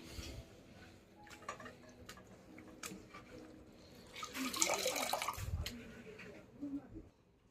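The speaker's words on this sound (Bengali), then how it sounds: "কত জল পড়ছে, সব ভাতের জল বেড়ে গেছে।" Water from cooking rice boils over and spills, a close, splashing and trickling wash that swells midway, with a person speaking over it.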